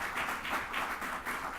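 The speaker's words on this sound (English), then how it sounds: "This applause is for you" Audience applause at a 2015 Chicago mayoral candidate forum in Pilsen, a steady wash of clapping from a crowd, moderately loud and continuous with no voices over it.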